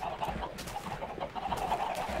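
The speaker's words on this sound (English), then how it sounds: "Some kind of chicken farm, apparently." Chickens on a Minecraft chicken farm cluck in short repeated bursts, fairly close and continuous over faint background ambience.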